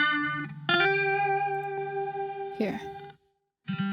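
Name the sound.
sample processed through an octave guitar pedal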